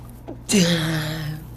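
A single sharp sneeze bursts out in a quiet lecture room, followed by a brief trailing vocal tail, fairly close and alone.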